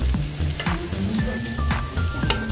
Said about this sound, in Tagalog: Pwede na siyang ilagay sa ginigisa kong bawang at sibuyas.